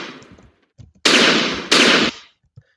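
Dynamite blasts in a video game: two loud, broad explosions back to back, each lasting about half a second, following a quieter stretch of low rumble and small clicks.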